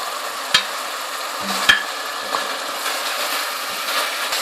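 Mutton karahi with red chilli, salt and crushed spices fries over a high flame in a steady, loud hiss, broken by a few sharp scrapes and knocks of a stirring spoon.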